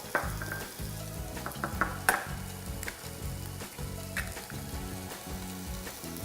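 Onions sizzling in a pan, a quiet steady crackle with scattered pops and soft clicks running throughout.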